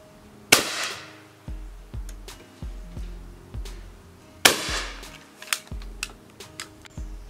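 Two loud shotgun blasts at a clay shoot, about four seconds apart, each a sharp close crack followed by a short decaying ring, with faint clicks and handling noises between the shots.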